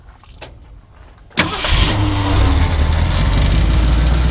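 A 1971 Ford F100 Sport Custom cranks briefly after a quiet moment, then catches and settles into a steady, loud, close idle.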